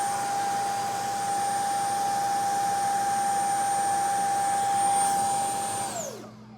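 A model Avro Arrow electric jet motor running on a test stand: a loud, steady high-pitched whine with airy rushing roar, held at constant speed, then spooling down quickly at the end.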